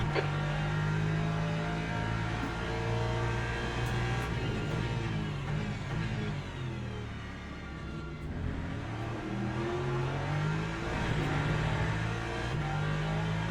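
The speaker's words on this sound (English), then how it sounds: "There's a car leaving the pit lane." Race cars in the Le Mans Ultimate sim racing game at Spa, with a 62-car grid: a loud, continuous engine roar that rises and falls through gear changes and revving, heard alone without talk.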